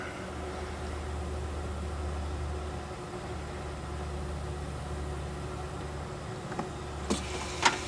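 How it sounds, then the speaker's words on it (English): An electric car fuel pump running during a fuel volume test, a steady low hum and whir with a faint whine, fuel flowing into a jug, and a few soft knocks near the end. "Fuel pump is running."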